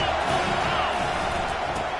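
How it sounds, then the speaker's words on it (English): A stadium crowd at a Tennessee vs Ohio State college football game roars in a steady, dense wall of cheering that stays loud and unbroken throughout. "this crowd is turning it up a notch"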